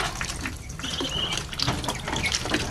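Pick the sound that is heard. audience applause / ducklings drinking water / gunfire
ducklings drinking water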